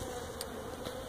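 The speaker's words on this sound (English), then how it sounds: "I'm letting the forage bees, you know, the yard bees, clean them up" Honey bees buzz around a beehive on a warm day, a faint, steady hum with a couple of brief louder passes.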